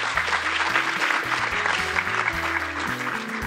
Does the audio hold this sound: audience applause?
yes